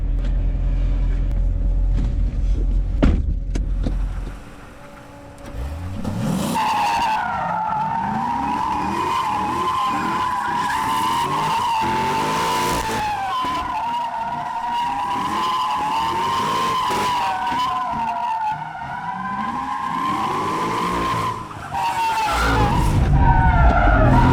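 A Corvette C6 Z06 engine, without a power adder, roars with long, loud tire squeals as the tires skid continuously, ending with a deep engine rumble.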